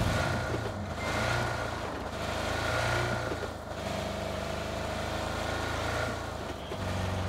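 Motorbike engine in the video game PUBG: a continuous, loud droning hum that rises and dips slightly in pitch as it is ridden, with no talk over it.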